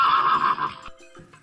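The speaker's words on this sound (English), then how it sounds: "It's the horse that goes." A horse whinnies in a farm animal learning game, one short neigh with a bright, quavering pitch that drops away after about a second, followed by brief quieter sounds.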